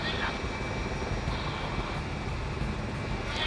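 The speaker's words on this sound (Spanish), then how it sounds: "Seguramente por la vibración del helicóptero y por el estrés del ruido" Helicopter on a night rescue flight, a loud continuous rotor and engine roar with broadband rumble filling the cabin, steady and close throughout with no pauses.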